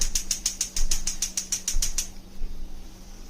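A gas stove knob turns to medium with a rapid run of about a dozen sharp ratcheting clicks up close, then falls quiet.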